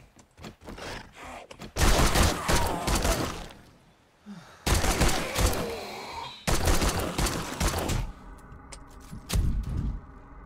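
Bursts of machine gun fire in the video game 7 Days To Die ring out in three loud sustained volleys, with scattered shots and pauses between them.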